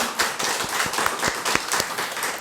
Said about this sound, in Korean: 우리 교육부를 위해서 여러분 박수 한번 해주시면 감사하겠습니다.